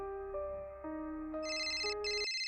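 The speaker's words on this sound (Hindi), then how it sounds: "चलो पांडे जी, फोन उठाओ और वीर से बात करो।" Phone ringtone for an incoming call, a steady melodic electronic ring with shifting tones that plays alone and fairly loud, with no talking over it.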